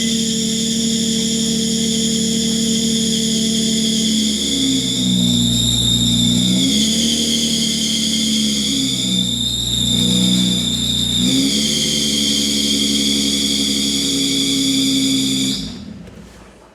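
A Nissan 350Z engine with a worn drive belt runs steadily and loudly for about fifteen seconds, a sustained high whine over the engine hum, with a couple of brief dips in pitch before it cuts off.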